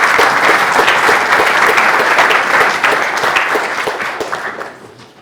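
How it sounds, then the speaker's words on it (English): Audience applause at a Java user group demo session in Stuttgart: loud, dense clapping from a room of people that holds steady, then gradually fades out at the end. "give him a round of applause"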